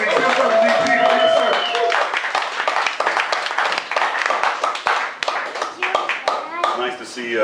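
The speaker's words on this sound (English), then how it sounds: "let's give a big round of applause for Doug Hiatt, Premier." Audience applause at an evening petition party for a county cannabis measure, a dense continuous patter of clapping hands lasting several seconds, with voices talking and cheering over it.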